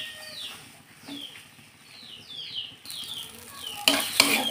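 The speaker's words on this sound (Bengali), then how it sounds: "আমি হাতা দিয়ে চেপে চেপে সুন্দর করে মিশিয়ে নিয়েছি।" Ladle scraping and pressing through potato curry in a pot, a few distinct swishing strokes and metallic scrapes, growing louder and harsher toward the end.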